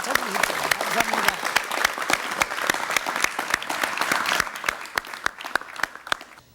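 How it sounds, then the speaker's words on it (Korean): Studio audience applause on a Korean television talk program, starting with a brief voice then a steady run of hand claps, thinning into separate, distinct claps that slow and fade near the end. "박수 한번 쳐주십시오."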